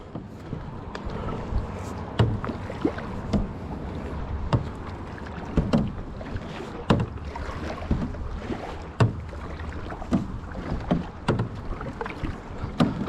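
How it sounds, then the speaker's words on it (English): A clear kayak is paddled on Lake Tahoe at Zephyr Cove, with regular splashing strokes and dripping water about once a second, close by under light wind noise. "practice paddling forwards, backwards, practice turning"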